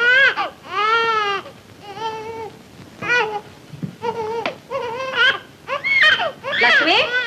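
An infant wails in a Tamil film scene, with repeated rising and falling sobbing cries in short bursts separated by brief pauses, loud and close.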